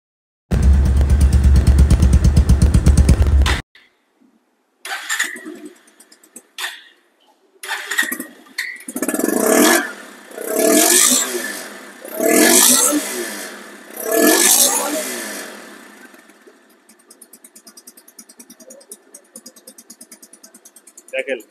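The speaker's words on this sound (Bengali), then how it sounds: "বাইকটি সাউন্ড কোয়ালিটি শুনুন।" A 2024 motorcycle with ABS and double disc brakes, about 1400 km on it, starts up after a loud opening passage, then gives a series of strong rising revs, each swelling and dropping back to idle, close by.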